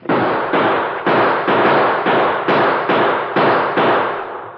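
Gunshots from a radio drama ring out in a rapid, evenly spaced series of about nine sharp bangs, each loud and close with a short decay, with no talking over them.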